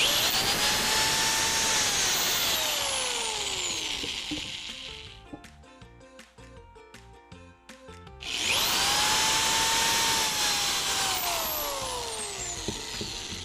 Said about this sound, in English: I'm going to take my drill here, line up my 1x4s at the base of my 2x4